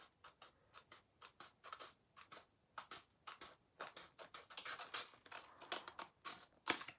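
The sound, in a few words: trimming a decor transfer with scissors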